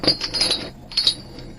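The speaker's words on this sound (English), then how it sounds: "The clinking of the chain." Metal chain clinking in two short bursts of light, bright jingling, close by and fairly quiet, with a brief pause between them.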